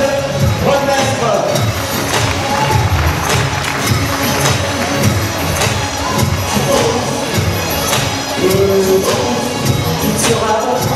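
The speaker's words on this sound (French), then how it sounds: "on applaudit David Renestre" A crowd at a kickboxing event applauds and cheers a fighter, loud and dense, with shouts, whistles and stray bangs over continuous clapping and crowd noise.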